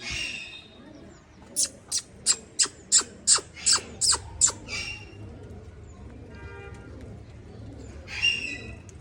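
Pigeons on a rooftop loft give a rapid series of about nine sharp, evenly spaced calls and wing claps, fairly close, followed by softer cooing and a final burst, with quiet ambient noise between.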